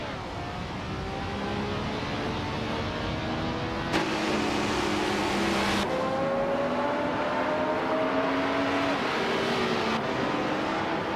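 1977 Porsche 936 race cars screaming around a track in a video game, a continuous loud engine drone with pitch sweeping up through the gears and abrupt shifts as cars blend together.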